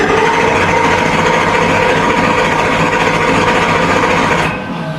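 Chevy 408 engine cranking over on the starter during a compression test, a steady rapid rhythmic churn that runs loud and continuous before cutting off near the end.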